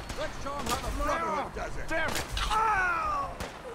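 Gunfire during a Fallout 4 Brotherhood of Steel assault at Libertalia, with several sharp shot bursts scattered among game voices and harmonic character chatter over a busy background.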